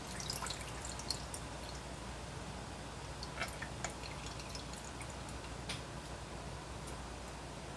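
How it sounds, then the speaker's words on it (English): Beet juice from a can of sliced beets trickles into a saucepan for pickled eggs, a faint steady pour with soft drips and ticks under a low background hiss. "pour the liquid directly into the saucepan that I'm going to be using"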